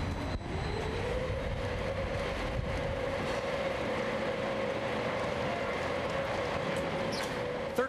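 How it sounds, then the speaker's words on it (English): A high-speed construction hoist climbs toward the 13th floor, a steady rumbling, clanking ride with a sustained mechanical whine and occasional knocks, loud and close throughout. "Let's get in this here hoist. Right, this is your high-speed hoist."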